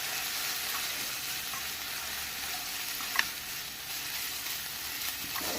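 Cooked prawns stirred into grated coconut frying in a pan for a Kerala prawn thoran, a soft steady sizzle with faint stirring scrapes and one brief clink of the spoon midway.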